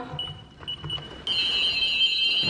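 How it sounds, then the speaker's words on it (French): A few soft beeps from a security alarm keypad as it is set, then a loud continuous electronic alarm tone starts and keeps sounding, close by. "On met l'alarme, je te montre pas."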